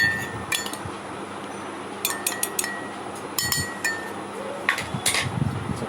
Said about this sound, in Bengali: এটাকে আবার একটু মিক্স করে এই ইয়েতে দিয়ে দিব